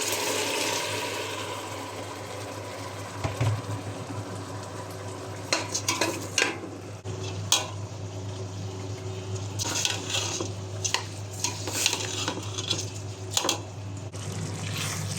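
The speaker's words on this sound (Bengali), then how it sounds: "প্যানে তেল দিয়ে দিলাম, পেঁয়াজ দিয়ে দিলাম।" Polao rice and onions frying in oil in a pan, a steady close sizzle with a low hum underneath and intermittent scraping and clinking stirs of a spatula, no one speaking.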